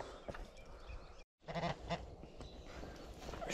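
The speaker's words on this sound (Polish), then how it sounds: "Trzy żurawie są na łące." Three cranes calling from a meadow, loud honking cries repeated in bursts with a brief gap, heard outdoors against steady background noise.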